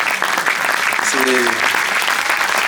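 Audience applause at a film festival closing ceremony in Guadeloupe, steady dense clapping filling the whole stretch with a brief murmur of voices underneath.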